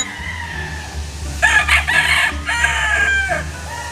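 Gamefowl rooster at a game farm crows loudly in one long, wavering call with several bursts, close by, over a low steady hum and no talk.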